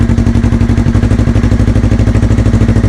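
A Yamaha YZF-R3 with an aftermarket exhaust idles loudly up close, a steady fast thrumming beat with metallic clatter and no voices.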